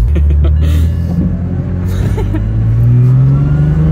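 A BMW engine idles with a deep, loud rumble while its loose flywheel adds an uneven rattling knock, the low drone rising slightly in pitch toward the end.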